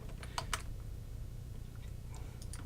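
A few soft, scattered computer keyboard key presses tap quietly over a faint steady background hum.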